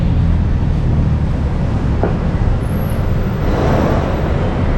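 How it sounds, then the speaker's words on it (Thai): Steady roadway noise from a traffic jam near Yaowarat in Bangkok, with a dense wash of idling and creeping vehicles, loud and constant, and a brief sharper sound partway through. "รถติดร้ายมื่อนี้"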